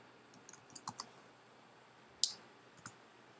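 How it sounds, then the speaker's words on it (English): Computer mouse clicks while selecting a box in software: a few quiet, sharp clicks, with a slightly stronger one partway through, over faint room hiss. "See, by clicking on this box,"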